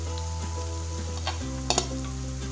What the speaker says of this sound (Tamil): இது நல்லா ரோஸ்ட்டாக கொஞ்சம் ப்ரௌன் கலர் வர மாதிரி நம்ம வறக்கணும்